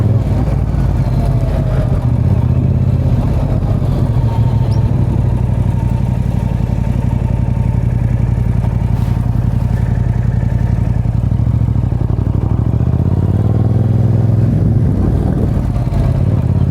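A Yamaha MT-07 motorcycle is ridden at a steady low rumble for a long stretch, then the engine note rises as it accelerates near the end, loud and close with wind noise and no talk.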